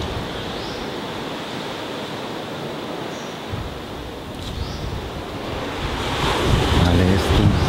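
Sea waves and wind from a hotel terrace overlooking the sea at Cape Panwa, Thailand, make a steady, full roar of surf with gusty wind noise on the microphone, swelling louder toward the end.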